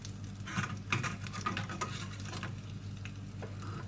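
Red pepper flakes sizzle in hot oil for a sauce topping a creamless mushroom soup, a steady close crackling hiss with stirring scrapes throughout and no voices.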